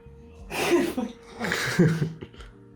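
A person sneezes twice in close succession, each a loud, close, explosive burst with a short pause between them.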